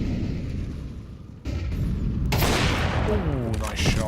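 Gunfire during a professional Counter-Strike match at a major tournament, a quick burst of shots under steady caster commentary.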